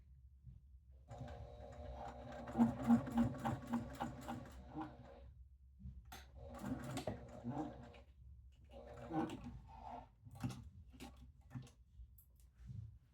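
Home sewing machine stitching a fabric pouch at stitch length 3: faint, quiet bursts of rapid mechanical whirring and needle chatter, several short runs separated by pauses, over a low background hum.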